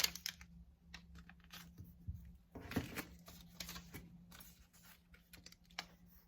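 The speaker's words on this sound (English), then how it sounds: "So I'm gonna take my sticky notes and I'm gonna unstick them." Sticky notes peeled one after another from a pad on a table, giving quiet, irregular papery ticks and light rustles close by, with a slightly louder tearing rasp midway.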